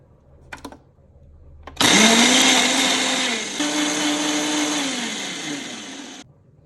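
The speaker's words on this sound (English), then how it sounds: "So I'm going to blend this" A countertop blender whirs loudly through a chocolate cherry kale smoothie, starting abruptly after a few small clicks, dipping slightly in pitch partway through, then cutting off cleanly.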